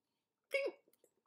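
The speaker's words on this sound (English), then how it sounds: "apparently now I've got hiccups" A single hiccup, quiet and close, a short voiced gulp followed by faint breathy rustles, heard alone without talking.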